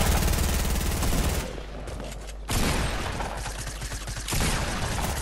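Video game gunfire, loud rapid bursts of shots close by, coming in dense stretches with a short lull midway and another surge near the end.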